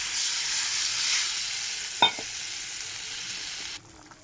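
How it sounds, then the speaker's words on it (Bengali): Curry spice paste sizzling in a pan, a steady hiss that fades slowly, then a sharp splashing burst as water goes in, followed by a quieter simmering hiss that drops away near the end. "মশলাটা কষানো হয়ে গেছে, মশলার জলটা দিয়ে দিলাম।"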